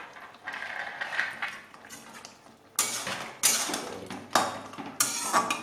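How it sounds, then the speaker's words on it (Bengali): Bitter gourd and lentil dumplings go into a pot of Bengali shukto with mixed vegetables, bringing a series of close metallic clinks and clanks of utensil against cookware, the sharpest landing in quick succession toward the end. "এবার আমি করলা আর ডালের বড়িগুলো দিয়ে দেব"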